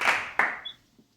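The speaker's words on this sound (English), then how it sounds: "Give yourselves a round of applause." Two sharp, close claps in quick succession from children in a remote pre-K class, followed by a couple of faint taps and near silence.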